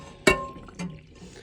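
Water slides off the surface of a HexClad hybrid pan, making two quick wet splashes about half a second apart over a faint, quiet background.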